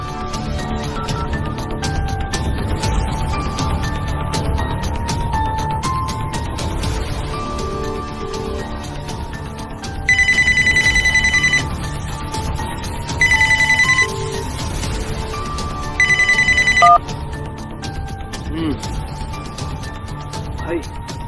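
A phone ringtone sounds in a gangster drama scene set in Uttar Pradesh, playing in three short, loud bursts over steady background music and ambience.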